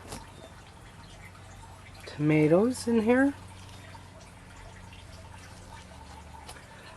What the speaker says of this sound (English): you can hear that trickling, the pump's running right now.